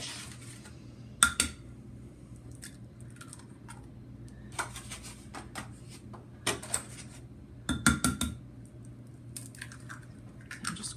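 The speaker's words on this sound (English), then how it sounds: "I'm just cracking the eggs." Eggs being cracked one after another into a bowl for a crustless quiche, sharp close taps and clicks in scattered bursts against a quiet kitchen background.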